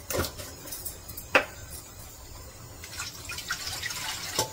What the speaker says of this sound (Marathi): थोडस पाणी आपल्याला टाकायचं, मीठ वितळतंय तोपर्यंत.